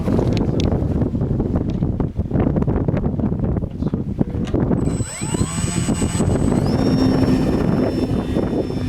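Gusty wind buffets the microphone at an RC flying field, loud and roaring, while a small model aircraft's whining motor passes overhead and fades out.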